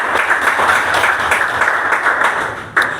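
Applause from the audience at a discipleship training session, a steady patter of many hands clapping together for about three seconds, ending with one sharper clap.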